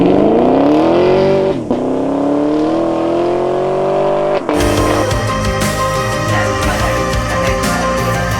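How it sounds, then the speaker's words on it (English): A Chevrolet Camaro brought in by HSV is driven hard, its engine revving upward in a rising growl, then cutting over to a louder, denser roar as it pulls away close by. "this is the Chevy Camaro being brought in by HSV"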